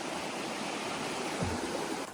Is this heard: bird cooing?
no